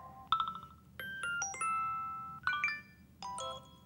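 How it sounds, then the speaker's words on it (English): Quiet alert tones and ringtones from Apple's iOS 7, a sequence of short melodic chimes and bell-like notes played one after another with gaps between, no voices. "So a lot of new ringtones."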